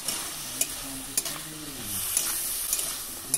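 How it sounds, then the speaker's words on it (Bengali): Freshwater snails with salt and turmeric sizzle in a pan while a spoon stirs them, sharp scraping knocks recurring roughly every half second over a continuous close frying hiss. "একটু ভাজা ভাজা করে কষিয়ে নেব।"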